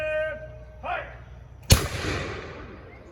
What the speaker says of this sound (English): welcome to our demonstration of the Matchlock musket, the most important weapon in Virginia history